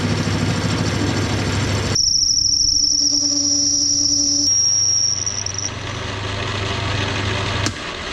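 A lathe parting off a piece of brass stock, with a steady high-pitched tonal whine from the cut over a continuous low machine hum, the tone stopping as the piece drops free and the motor carries on.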